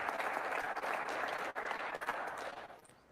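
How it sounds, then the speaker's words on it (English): Audience applause at a live snooker match in Northern Ireland, a steady broad wash of clapping that holds strong and then thins and fades toward the end, with no talking over it. "Generous round of applause from the audience there, realising how good a pot that was."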